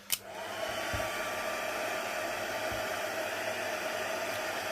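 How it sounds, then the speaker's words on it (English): Heat gun blowing hot air to melt embossing powder, a steady loud whooshing roar with a faint whine after a brief click at switch-on, continuing alone without talking. "what I'm doing now is just heating this embossing powder up so that it sets solid"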